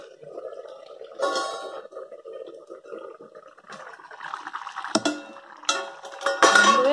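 A metal lid lifted off a pot of simmering vada curry, with soft bubbling followed by a few sharp clanks and scrapes of metal, the loudest near the end.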